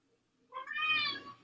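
A single drawn-out cat meow, clear and close, rising then fading over about a second in an otherwise quiet space.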